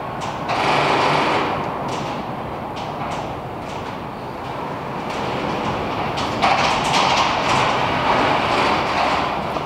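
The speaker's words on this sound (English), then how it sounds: "the wind is blowing like 23 miles an hour outside, and it's just shaking this metal garage." Strong wind at about 23 mph shakes a metal garage, a steady loud broadband rattle and roar with irregular clanks and creaks running throughout, no talking.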